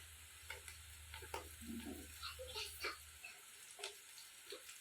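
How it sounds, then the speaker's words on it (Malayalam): Finely chopped ginger frying in a pan for a homestyle beef pickle, a soft steady sizzle with scattered pops and crackles throughout. "ഇനി ഇതെല്ലാം ഇവിടെ മൂക്കട്ടെ നല്ല മൂത്ത്"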